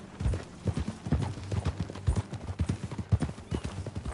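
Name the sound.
horse hooves clip-clop in video game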